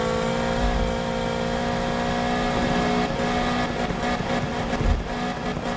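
Purple sports car engine in a racing video game, a steady synthesized drone with rising pitch bands as it revs and accelerates, loud and continuous, with a few brief louder surges near the end.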